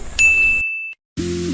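A phone chimes with a message notification: one clear, bright ding that rings on with a sustained tone, alone and loud, with household noise before it and a low hum after a short silence.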